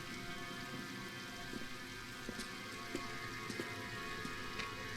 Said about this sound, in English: Oh, it's actually another case where it rains.